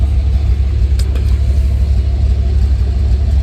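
An old Chevy truck engine rumbles steadily up close, a loud, continuous low drone that holds even throughout, with no talk over it.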